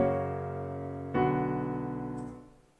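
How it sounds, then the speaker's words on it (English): Two sustained piano chords in a synthetic, MIDI-like tone, from the opening bars of Grieg's The Death of Aase, the first held and the second struck about a second later before fading out. "This is a MIDI recreation of the first two bars"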